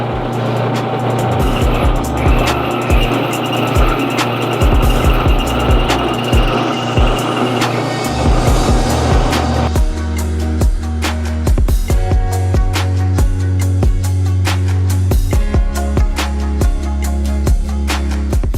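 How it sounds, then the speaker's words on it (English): A rotary grinder works the inside of an engine valve bucket from a cylinder head, first as a sustained whine and then as a harsher, stuttering, rattly grind with rapid bursts, close and loud. "I'm literally grinding the inside of the valve bucket."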